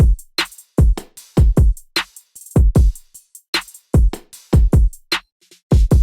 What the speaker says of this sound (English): Then I added in a bunch of percussion and hi-hats and crashes,